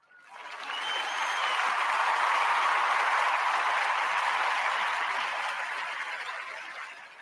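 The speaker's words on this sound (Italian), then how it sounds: "L'applauso va comunque al parroco" Sustained applause from a studio audience on an Italian radio broadcast, swelling in quickly, holding steady and loud for several seconds, then tapering off near the end with no voices over it.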